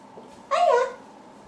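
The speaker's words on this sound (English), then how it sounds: "She's a 5-year-old European domestic cat." A five-year-old European shorthair domestic cat gives a single clear meow, loud and close, rising then falling over about half a second before quiet returns.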